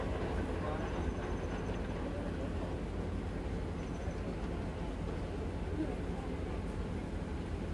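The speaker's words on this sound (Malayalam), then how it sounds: "ഇത് ഒരു ട്രെയിൻ കടന്നു വരികയാണ്." A Sri Lankan train on the Badulla to Colombo line rumbles past, a dense continuous roar of wheels and engine holding steady loudness from start to finish, under a rainy sky near a bus.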